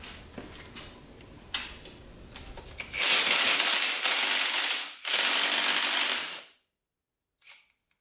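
A ratchet wrench loosens a 12 mm bolt beneath the shift lever of a Honda 400EX, with a rapid, loud clicking pawl in two close bursts, then silence and one short final click.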